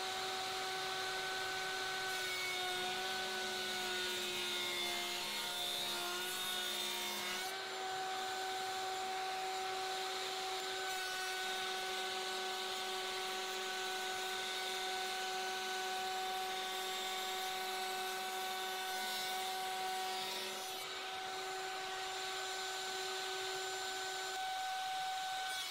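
Router cutting rabbets in wooden drawer sides, a loud continuous motor whine with a steady high pitch that briefly dips and shifts as the cut changes, running alone throughout.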